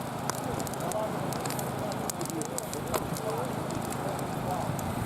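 A campfire at the Black Sands by Kostroma burns with a steady close rushing hiss, sprinkled with sharp scattered crackles and pops throughout.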